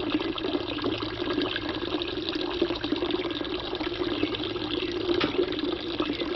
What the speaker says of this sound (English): So I have to water it by hand.